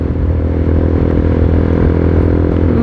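A Suzuki Gixxer SF250 motorcycle cruising in sixth gear, a steady loud engine drone with wind rush heard from the rider's position, no voices.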